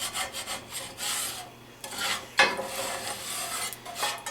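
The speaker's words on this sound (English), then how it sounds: "scrape the pan just a little bit because I want to loosen up the fond" A utensil scrapes across a hot pan to loosen the browned fond left from frying streak o' lean, in several close, rasping strokes with short pauses between them, steady and fairly loud.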